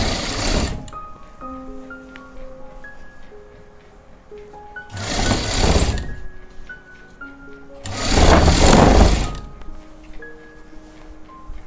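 Sewing machine stitching a jacket (koti) seam, with two loud bursts of rapid motor-driven stitching separated by quieter pauses, close by and with no talking.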